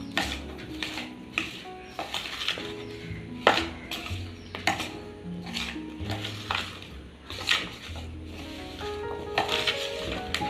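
Mango pickle being stirred with vinegar in a bowl, Kerala style, with a spoon clinking and scraping against the bowl in an irregular rhythm of soft knocks, close up, over faint background music and no talk.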